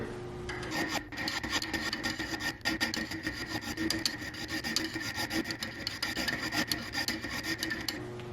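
A cheap 4-in-1 hand file rasps against metal in rapid, continuous back-and-forth strokes, a steady scraping rhythm heard close up and alone throughout.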